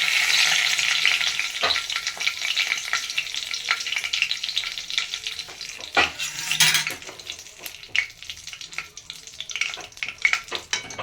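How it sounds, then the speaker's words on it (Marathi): Bay leaf dropped into hot oil in a kadai for Malvani sukka chicken, giving a loud, bright crackling sizzle with occasional metallic clinks and scrapes of a spoon against the pan. "आता मी क कढईमध्ये तेल घातलं आहे आता त्याच्यामध्ये मी हे जे तेजपत्ता आहे ते घालणार आहे"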